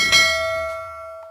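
A single bright bell ding rings out clearly, then fades away with a long, shimmering tail.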